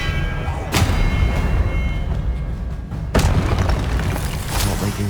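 The Expelliarmus spell in Hogwarts Legacy lands as two heavy booming impacts a few seconds apart, each a sharp, loud thud that trails off into rumbling game ambience.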